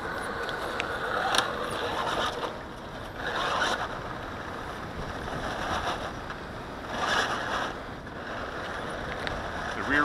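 An RC rat crawler climbs a very steep hill outdoors. Its motor whines in uneven surges over a broad rushing bed of wind or nearby water, with no talking.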